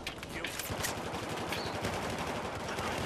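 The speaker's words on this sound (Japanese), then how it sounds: "下から撃ってるやつがいる。" Rapid automatic gunfire in the video game Battlefield 4: dense, continuous bursts of shots, loud and close, with no pauses across the stretch.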